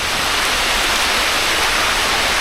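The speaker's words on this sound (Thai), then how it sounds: "ฟังเสียงธรรมชาติฟังเสียงฝนตก บวกกับน้ำตก" Rain falls over a waterfall at a jungle falls beside a temple in Thailand, a dense, steady, loud wash of rushing water that fills the whole moment without change and with no voices.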